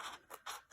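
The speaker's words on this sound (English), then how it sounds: "That's cutting all along that score line." Scissors cut card along a score line, giving three quick, crisp snips close by, fairly quiet, with no voices.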